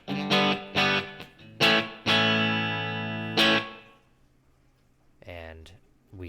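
An electric guitar plays dry through an HX Stomp effects unit, giving several sharp plucked chords and one longer ringing chord before it fades into quiet, then a short note near the end.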